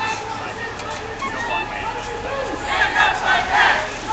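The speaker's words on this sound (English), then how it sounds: "Got a energetic crowd of about 15 to 75 people out here on Shattuck and University" About 15 to 75 energetic protesters on a Berkeley street corner at Shattuck and University chant and shout together, a loud, surging crowd that builds toward the end.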